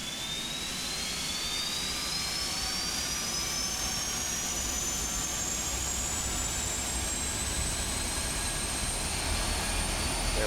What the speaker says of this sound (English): We're going to come up here and we're going to start engine number 4 and number 3 in succession.